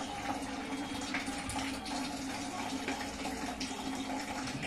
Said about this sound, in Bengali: আমি নতুন করে ধরবো জলটা